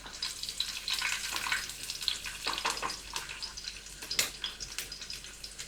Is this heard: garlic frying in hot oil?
yes